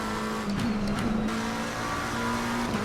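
A race car lapping on track in the racing simulator Assetto Corsa Competizione, its engine holding a loud, steady high-revving drone with slight pitch dips, and faint tyre noise underneath.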